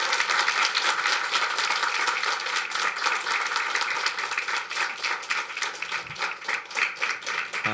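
Steady applause from a church congregation fills the room as a pastor is welcomed to the stage during a revival worship service, dense clapping sustained throughout at moderate level with no talking over it.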